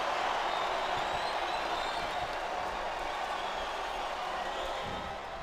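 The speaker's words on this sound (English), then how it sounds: "This crowd sounds like they're about to blow the roof off of the building." The arena crowd in WWE SmackDown vs Raw on PS2 sustains a steady, fairly faint roar of cheering and applause that eases slightly toward the end.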